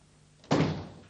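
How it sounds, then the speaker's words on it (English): Door pushed shut in an office, a single close, solid thunk that decays over about half a second. "Close the door."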